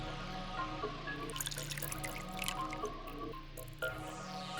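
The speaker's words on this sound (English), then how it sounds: "I'll just pour the saline solution in here." Saline solution poured and dripping through a funnel into a beaker in the game Zero Escape: VLR, a close, quiet run of wet drips and squishy trickles over a faint humming backdrop.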